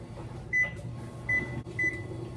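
Kitchen timer being set for one hour, three short electronic beeps spaced about 0.7 seconds apart over a steady low hum of kitchen background noise.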